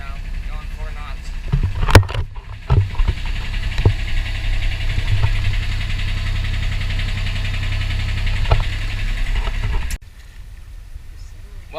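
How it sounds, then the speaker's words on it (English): A sailboat's motor idles steadily under sail, with a low continuous engine drone. A few knocks and clatters from the boat land on top of it, and the engine cuts out near the end. "The motor's still running because we're scared to turn it off, but it's in idle."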